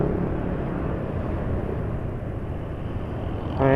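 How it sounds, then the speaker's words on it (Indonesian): A Kawasaki motorcycle engine running on Kawasaki Genuine Oil at an easy riding pace gives a steady, even rumble that carries through without a break. No one speaks over it. "Nah ini suara mesin sudah halus lagi ya."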